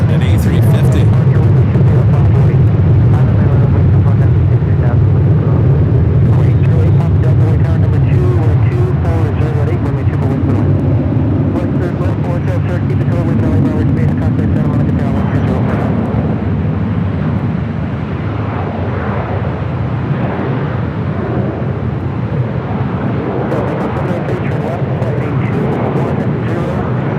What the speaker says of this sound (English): KLM Flight 602, the Dreamliner heading back to Amsterdam, now pushing it back or lighting up